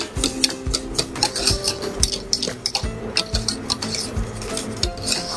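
Filling stirred in a pot off the heat while baking croissants: steady scraping clinks of a utensil against the pot in an uneven rhythm, close and fairly loud, with no talking.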